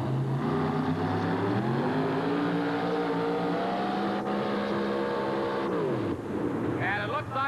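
A tractor-pull vehicle with a 640 cubic inch engine, at the 1988 TNT event in Birmingham, roars loudly and steadily under load, then its pitch sags and drops off near the end, with an announcer talking over it.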